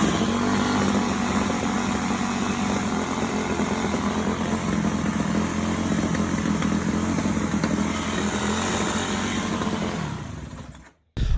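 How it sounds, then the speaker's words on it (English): A 2005 Yamaha YZ250F dirt bike engine with carburetor problems and backfiring runs steadily and loudly up close, a rough continuous buzz that cuts out abruptly near the end. "once you turn it off choke, it backfires really bad"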